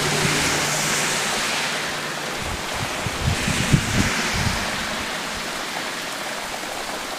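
Wind blows hard during a storm, with a tornado watch in effect in New York: a broad, continuous rushing roar with gusty swells and low buffeting thumps, no voices.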